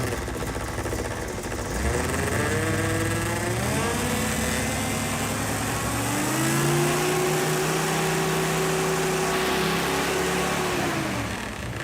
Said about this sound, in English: The fan is hitting the shroud, which is making a weird noise.